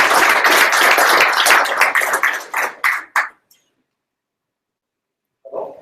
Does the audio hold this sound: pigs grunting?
no